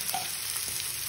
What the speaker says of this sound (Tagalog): Ilagay na natin ang ampalaya.